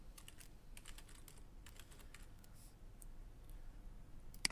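Typing on a computer keyboard while entering an email address, with quick bursts of soft, close key clicks separated by short pauses and a louder click at the end, heard without talk.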